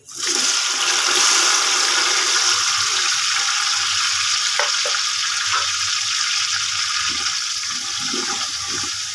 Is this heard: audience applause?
no